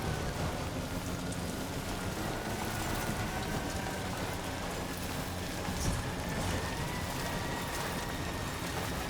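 Constant heavy rainfall in the video game Death Stranding 2: On The Beach hisses without a break, with a low rumbling undertone and faint tonal hums beneath it.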